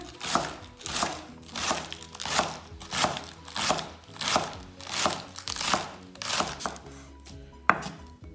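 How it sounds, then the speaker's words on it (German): Onions sliced into small rings with a knife on a board for a cold Russian summer soup, about a dozen steady crisp chops in an even rhythm, close and clear with no talking. "Die Zwiebeln schneiden wir jetzt auch in kleine Ringe."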